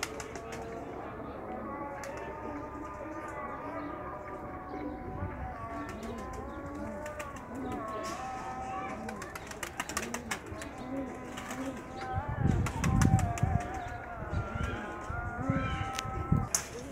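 Pigeons cooing softly in a backyard loft setup built for breeding pairs and high-flying birds, low throaty coos mixed with occasional wing flaps and rustling, with someone talking over them at a distance.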